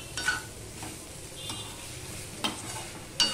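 Fried potatoes and poppy seeds are stirred in a pan over medium heat, a light sizzle running underneath while a spoon scrapes and clinks against the metal a few times, close and fairly quiet.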